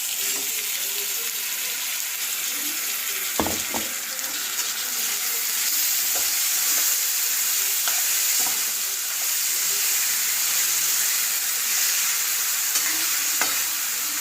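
Bitter gourd stir-frying with tomato puree in a pan, a steady broadband sizzle throughout with a few sharp clinks of a spoon or spatula against the pan, close and continuous.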